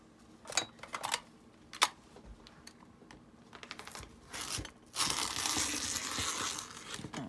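Fabric being cut with a craft cutter for junk journaling: a few sharp snips and crinkles early, then a sustained louder scraping, rustling stretch toward the end, close by with no talking.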